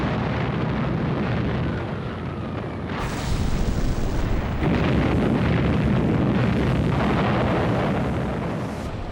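Booming artillery bombardment explosions roll continuously through a wartime seaborne assault, a dense thundering barrage that swells louder partway through and stays heavy and rumbling to the end.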